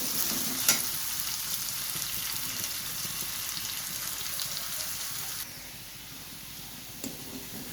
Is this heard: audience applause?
no